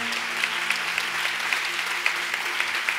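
A church congregation claps along, a dense, steady wash of many hands applauding together in a large room, with faint voices underneath.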